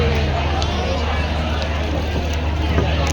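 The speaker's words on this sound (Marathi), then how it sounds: "गर्दी." Dense, steady crowd babble fills the evening air at Asiatique Riverfront in Bangkok, many voices blending into a loud continuous hubbub close around the listener with no pauses.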